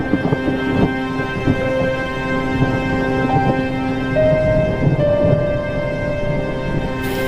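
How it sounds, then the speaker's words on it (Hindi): A storm sound effect rumbles with steady thunder and rain, moderately loud, with a low sustained drone running underneath. "बिजली कड़कने लगी।"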